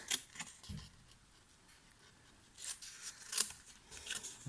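Scissors snipping through cardstock to cut sections from a small handmade box: a few quiet, close snips and crisp paper crunches spaced apart over a soft background hiss.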